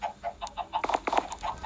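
Repeated short clucks from a chicken, evenly spaced and fairly close, with a brief flurry of quicker clucks in the middle and no talking.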